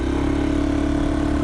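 A BS6 Aprilia Storm 125 disc-brake scooter engine idles steadily just after starting, a close, continuous low mechanical hum with an even throb and no talking over it.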